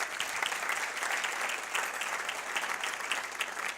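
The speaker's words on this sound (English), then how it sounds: "Give yourselves a big round of applause for being here today." Audience applause at a United Way of the Lower Eastern Shore campaign kick-off, a dense, continuous roar of many hands clapping at an even level from start to finish, with no voices over it.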